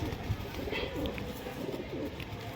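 Malbai pigeons at a home loft in Nabadwip give soft, low, rolling coos, repeated a few times under a steady background hum. No one speaks.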